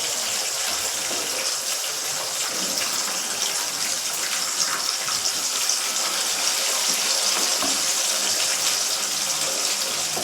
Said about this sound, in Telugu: ఇగో చికెన్ పిక్కలు వేసుకుంటున్నాను డీప్ ఫ్రైకి.